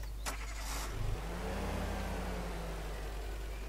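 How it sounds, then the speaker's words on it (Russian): A VAZ-2101 car in the SpinTires video game cranks and starts, then settles into a steady low idle under a constant engine drone. "И вон, тачка у нас завелась"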